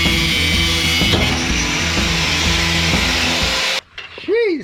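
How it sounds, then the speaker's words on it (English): Angle grinder cutting on a trailer axle, a loud harsh mechanical whine with rhythmic rattling pulses that stops abruptly near the end, followed by a short whistling tone. "Grinder's gonna take this job."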